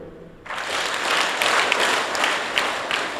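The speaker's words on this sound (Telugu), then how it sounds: "మీరు క్లాప్స్ 4 కొట్టండి." After a brief quiet start, a classroom of schoolchildren at an English-medium school bursts into loud, sustained group clapping that runs on well past a few claps, with occasional sharper individual claps standing out.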